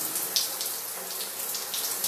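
Hot shower water running steadily from a tap, a continuous close hiss and splatter with no pauses and no voices.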